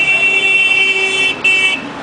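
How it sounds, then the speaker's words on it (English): Car horns honk in heavy downtown Delhi traffic, bright sustained toots overlapping briefly with a short gap before another blast, set against the low rumble of vehicles. "Hear them horn?"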